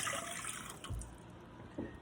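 One and a half cups of water poured into a pan, a faint, brief trickling splash followed by a couple of soft thuds and clinks, quiet with no talk.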